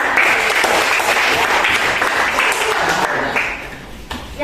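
A classroom audience of high school students claps together in a loud, sustained burst that thins out and fades toward the end.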